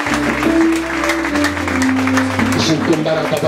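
A church congregation applauds during a charismatic French-language worship service, with steady, dense clapping sustained throughout, mixed under loud music and a voice.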